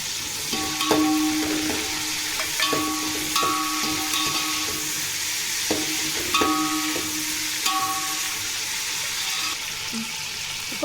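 Mint leaves fry in hot oil in a pan, a steady close sizzle broken by repeated sharp spatula scrapes and clinks every second or two, with no voices.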